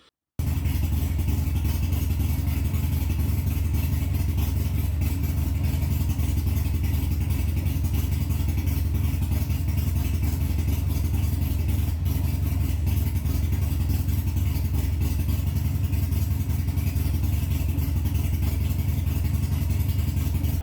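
A Harley-Davidson Sportster 48 engine runs steadily throughout, a loud, continuous low rumble with a lumpy idle and some mechanical clatter, close by and with no talk over it.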